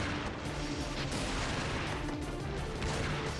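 Continuous, dense volleys of gunfire from Spirit Engine DX rattle steadily throughout, a loud barrage of overlapping shots without any talk.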